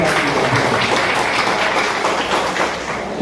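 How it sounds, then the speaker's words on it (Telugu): An audience at a temple event claps together in a dense, steady wash of applause that stays loud and then tapers off slightly at the end. "మీరు అందరూ కూడా చప్పట్లు"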